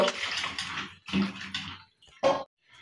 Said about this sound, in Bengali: এখানে আমি বেগুন আর ফুলকপি ভালো করে ধুয়ে নিব